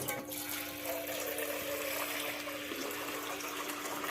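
A kitchen tap, salvaged from a building site, runs water into a mug: a steady hissing gush of flowing water that stays loud and close throughout, with a faint rising tone as the mug fills.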